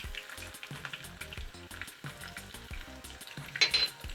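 Mustard seeds, cumin, green chillies and crushed garlic sizzle in hot oil for a dal methi tadka, a bright crackling hiss broken by a rhythmic series of spoon scrapes and stirring knocks against the pan, close and alone.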